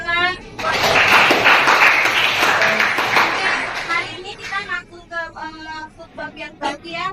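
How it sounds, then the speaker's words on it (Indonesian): A school class applauds together, rhythmic clapping loud for about four seconds before fading, followed by children's and teacher's voices talking. "Beri tepuk tangan."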